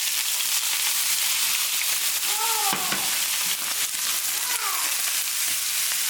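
Shrimp sizzle in hot oil for a garlic shrimp dish, a dense, loud, continuous hiss close up, with a couple of faint squeaky tones rising above it.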